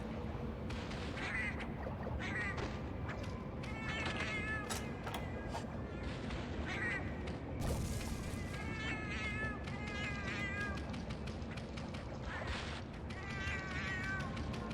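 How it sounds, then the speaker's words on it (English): Repeated cat meows with a plaintive, wavering tone come at irregular intervals over a steady busy background. There are scattered clicks and noises, and the meows sound close and moderately loud. "Meow meow."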